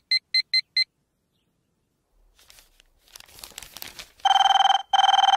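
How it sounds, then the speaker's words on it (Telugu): A telephone rings at a comedy-scene workplace: four short electronic trills, a stretch of rustling and crinkling, then two long, loud sustained ring tones close by. "అబ్బా, ఈ ఫోన్ చంపేస్తున్నా."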